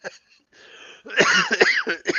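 A person coughs in a short burst of several harsh, close coughs after a faint breathy throat sound, loud and alone without talk.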